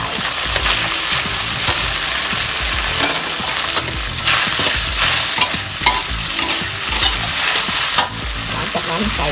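Fried pork with garlic and black pepper stirred in a hot pan, a loud, continuous sizzle with repeated scraping stirs close by and no voices.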